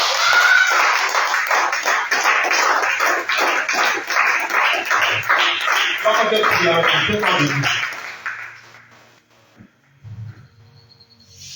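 Congregation at an evening church service clapping in steady rhythmic bursts for about eight seconds, loud and close, with voices mixed in, then fading to quiet.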